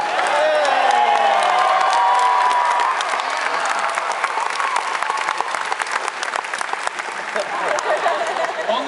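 A theater audience at a live Mythbusters touring stage show applauds and cheers loudly after a broken hot water heater demonstration, sustained dense clapping with whoops that slowly thins out while a voice speaks over it.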